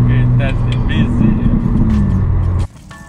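A drift car engine at the Grand Zoute Prix, a loud low roar held steady for over two seconds before cutting off sharply, leaving faint background noise.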